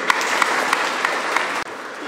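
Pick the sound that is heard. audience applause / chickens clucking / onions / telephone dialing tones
audience applause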